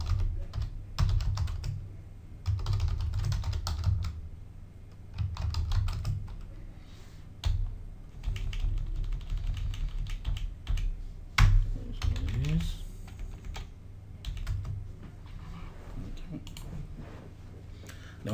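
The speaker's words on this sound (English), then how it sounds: "I can then type it in." Rapid clicking of computer keys as someone types at a service desk, the keystrokes coming in uneven bursts with pauses, fairly close and moderately quiet, with a little speech alongside.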